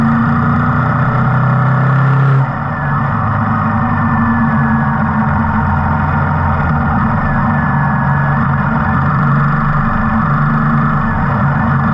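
A motorcycle cruising steadily along a hill road through a deep forest area in Tamil Nadu, its engine droning loud and close throughout with constant road and wind rumble, no talking.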